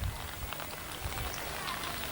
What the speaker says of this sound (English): The tapping of rain sounds in houses all over town.